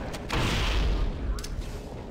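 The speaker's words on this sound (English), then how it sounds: "I meant to reload, not throw a grenade." Grenade blast in Halo Combat Evolved, a single loud booming explosion with a rolling low rumble that fades over about a second, amid game noise.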